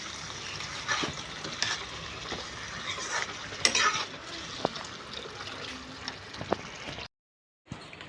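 Hot water is poured into pigeon meat curry cooking with jaluk pepper, setting off a bubbling sizzle with stirring scrapes and a sharp burst near the middle, then an abrupt silence before faint sizzling resumes.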